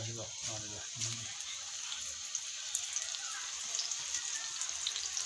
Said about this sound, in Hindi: बहुत ज़्यादा तेज़ बारिश है, तूफ़ानी बारिश है